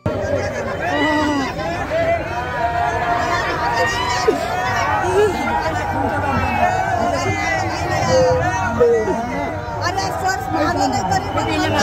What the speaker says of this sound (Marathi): इथे सुद्धा खूप जास्त प्रमाणात गर्दी आहे